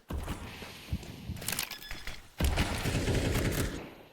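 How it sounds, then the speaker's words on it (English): A grenade detonates in a Counter-Strike 2 esports match, with a burst of sharp cracks and thuds and then a heavy, sustained rumbling blast, loud and close, alongside clattering game effects. "Good nade there from Snow, some decent damage"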